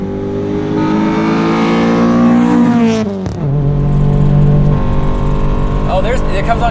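Infiniti engine revs hard with rising harmonics up to fuel cut, a sharp drop near the middle, then settles into a steady drone; talk is heard over the engine.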